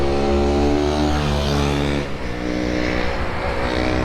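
A diesel-engined Bullet motorcycle with an aftermarket engine revs hard, its loud, steady thumping drone holding for about two seconds, then dropping and turning rougher and uneven.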